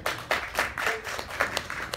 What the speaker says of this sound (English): Give them a long round of applause.